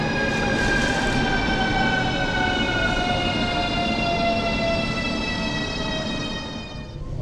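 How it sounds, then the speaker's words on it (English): A Moscow Central Circle commuter train rolls along with a steady, loud broadband rumble and sustained whining tones from the motors, heard from inside the carriage, easing slightly near the end. "we're on the train"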